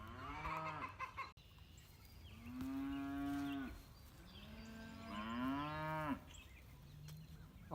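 Cows moo in long, drawn-out calls, two or three lowing sounds close by with quiet farmyard noise between them.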